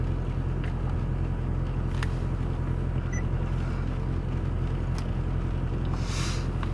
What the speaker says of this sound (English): I'm running the car for a minute to get heat